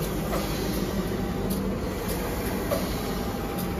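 The Mutiara Selatan passenger train, hauled by locomotive 206 1505, rolls into track 2 of a station, a steady rumbling hiss with faint clanks, heard from the platform at moderate distance.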